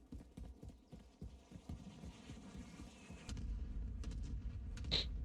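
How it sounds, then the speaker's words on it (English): In a video game, horse hooves clip-clop at a quick, even rhythm, then a low rumbling hum rises and continues with a sharp chirp near the end. "I'm gonna get on my horse"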